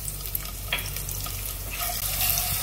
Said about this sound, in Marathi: थोडस जिरं आपलं परतवायचं, परतून द्यायचं आणि मग आपण ह्यात हिरवी मिरची टाकायची